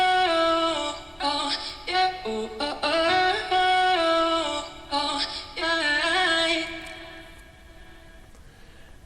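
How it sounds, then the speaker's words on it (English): Catchy arcade-style commercial music track with chopped, pitched vocal samples over bright synth leads, loud and steady with rhythmic stutter cuts, thinning out into a quieter tail near the end. "in the end, the arcade track sounds like this"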